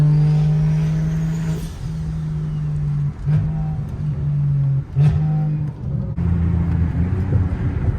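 A BMW E92 335is pulls hard up an on-ramp, its engine drone holding steady and loud from the cabin, broken by a few short dips that sound like gear shifts.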